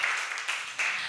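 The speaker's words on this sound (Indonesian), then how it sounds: "Tepuk tangan untuk kelompok 2 dulu." A classroom of students applauds a presenting group, a short burst of dense clapping from many hands with no talk over it.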